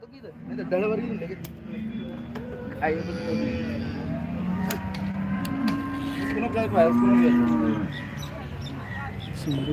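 HF cows at the Loni cattle market moo in several long, low calls spread across the scene, close and fairly loud, mixed with someone talking and market bustle.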